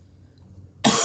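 A single sharp cough bursts out close and loud after near silence, abrupt and harsh, with no talking.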